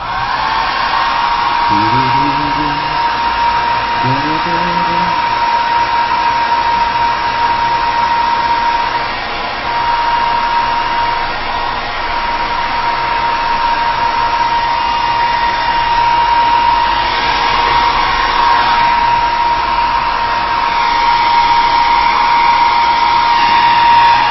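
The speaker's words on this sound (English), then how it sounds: "I'm also going to hit these guys with the blow dryer" A blow dryer runs loud and steady at close range for a long stretch, its continuous whine broken only by a brief dip midway, with faint voice fragments early on.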